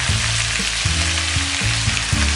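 Cauliflower leaves with green chillies and turmeric fry in a pan, a steady close sizzle filling the whole stretch with no voices over it.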